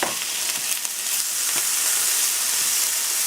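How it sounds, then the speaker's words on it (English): Potato stir frying in hot coconut oil, a steady, dense sizzle that holds close and loud throughout, with faint stirring scrapes and no voices. "I'm using coconut oil to stir fry"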